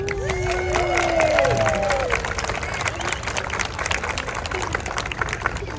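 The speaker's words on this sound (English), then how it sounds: "let's give them a round of applause" A crowd at a downtown Christmas event applauds the town council, claps and cheers mixing with chatter and a few voices calling out, loud at first and then easing into scattered clapping.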